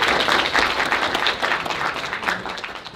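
Audience applause for an animation team at a college 2D animation livestream event, steady dense clapping from a crowd throughout, loud and continuous without pause.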